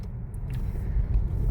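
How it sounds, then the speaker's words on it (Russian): After its fuel injectors and MAF sensor were cleaned, a car idles with a steady, close, low rumble over a short moment, with no speech. "на холостых оборотах машина работает как будто бы получше"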